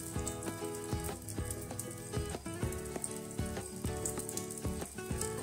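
Capsicum pieces coated in beaten egg sizzle steadily on a hot griddle, a continuous soft crackle with faint rhythmic ticks and no voices.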